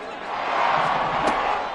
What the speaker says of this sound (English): that might be exactly what they needed to wake up this home crowd